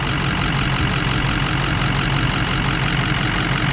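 A 2006 Ford F250 4x4 diesel engine idles while warming up in the morning, a loud, steady, continuous rumble with an even knock throughout.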